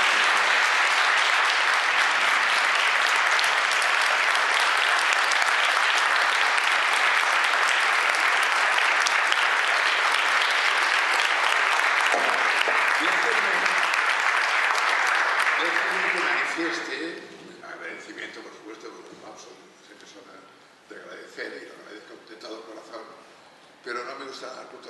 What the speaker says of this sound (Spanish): Así que quiero pedir un gran aplauso para Román Cuber.